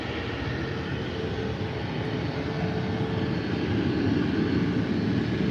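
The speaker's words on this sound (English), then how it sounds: "737 MAX 8, this one going to Copenhagen" A Ryanair Boeing 737 MAX 8 jet at Faro airport gives a steady, loud broadband engine roar that swells slightly toward the end, with no talking.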